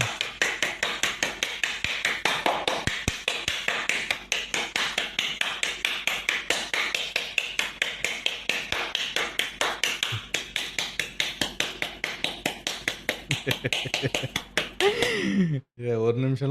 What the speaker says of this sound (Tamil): ஒரு நிமிடத்தில் 200 கைத்தட்டு.